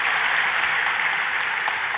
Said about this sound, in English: So, yes, round of applause.